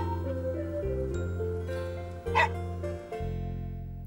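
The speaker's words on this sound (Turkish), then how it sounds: "O çok uslu bir köpek değil mi?" A single short dog bark pops up midway over a steady bed of sustained musical tones, fairly close and moderately loud.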